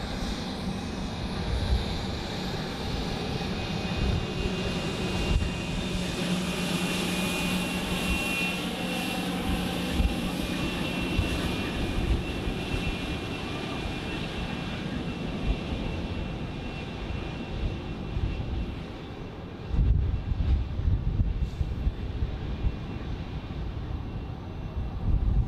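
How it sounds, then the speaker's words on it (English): A VistaJet Germany Embraer private jet at Zurich Airport sends out a sustained jet engine roar with a faint whine on top. The roar holds fairly steady, then brings a lower rumble near the end. "Coming up from our right, actually, the VistaJet Germany Embraer."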